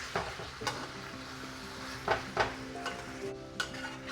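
Spicy dove stir-fried with dried chili and kaffir lime leaves, with a steady close sizzle in the pan punctuated by several sharp spatula scrapes and clinks, no voices.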